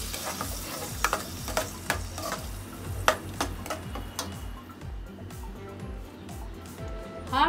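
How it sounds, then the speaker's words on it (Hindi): Ground paste is tipped into a pan of mushrooms frying with turmeric for mushroom butter masala, then stirred: close sizzling with repeated sharp spoon clicks and scrapes against the pan. "अब हल्का भून गया, अब मैं पिसा हुआ पेस्ट डाल रही हूँ।"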